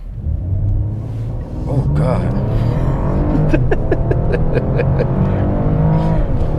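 A 2021 Mercedes-Benz E450 All-Terrain in Sport Plus mode launches from a brake-boosted standstill, its engine roaring steadily louder as it accelerates hard, with an excited voice speaking briefly over the engine.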